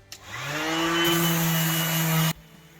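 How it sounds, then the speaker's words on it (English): An orbital sander smoothing the wooden boards of a simple loft ladder, a loud, close motor whine that spins up, holds a steady buzzing drone for about two seconds, then cuts off abruptly. "use my orbital sander here and sand all my lines off while I can get to them"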